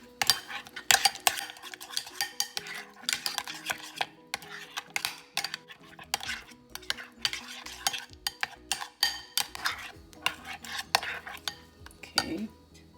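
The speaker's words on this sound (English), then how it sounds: "we're gonna mix that together, and this is gonna become a rub for this cauliflower" A spoon stirs and scrapes a pepper spice rub for roasted cauliflower in a small bowl, giving rapid, irregular clinks and taps close by, with a few louder knocks near the end.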